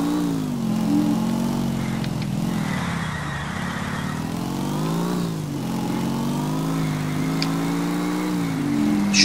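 Motorcycle engine in the video game GTA IV on PS3, a loud continuous mid-pitched drone with rising and falling revs as the bike rides along, close and steady without talk.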